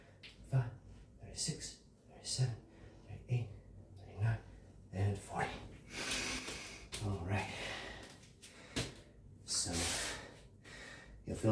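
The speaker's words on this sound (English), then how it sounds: "You'll also notice how much deep breathing we did" Heavy rhythmic breaths during a deep core workout, with forceful exhales and sharp inhales repeating close to the microphone at a steady exercise pace.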